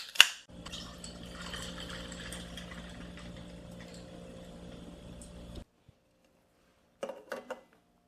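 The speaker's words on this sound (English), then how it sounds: "we're going to top it off with Sprite" Sprite pours in a steady, fizzing stream for several seconds as an ocean water cocktail is topped off, then stops; a couple of brief clinks and rustles follow after a pause.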